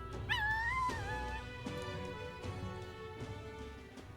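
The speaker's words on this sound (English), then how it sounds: "I heard a little doggy. What was that? What made that noise?" In the video game Metaphor: ReFantazio, a small dog lets out a brief high whimper near the start, a thin wavering cry over a low background music bed, faint and short.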